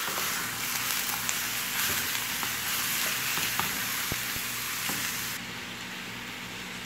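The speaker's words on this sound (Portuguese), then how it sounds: "Vou refogar 1/2 quilo de carne moída." Ground beef sautéing in a pan with olive oil, onion and garlic, giving a steady bright sizzle with scattered small pops and occasional scraping stirs, close and moderately quiet, the hiss easing slightly near the end.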